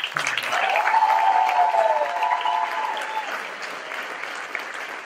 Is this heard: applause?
yes